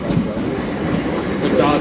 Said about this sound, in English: Comes the train. The train to where? Dublin.